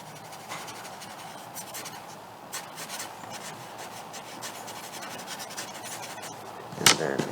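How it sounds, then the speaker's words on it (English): Pencil shading on paper, a soft continuous scratchy rubbing of graphite strokes, quiet and close, ending in a sharper brief scrape. "darken out my shadows a little bit more with a pencil"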